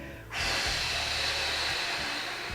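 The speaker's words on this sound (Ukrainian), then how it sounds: "вдих через ніс, фіксуємося." Sharp breath drawn in through the nose as part of a slow exercise routine, one long close hissing inhalation held steady for about two seconds.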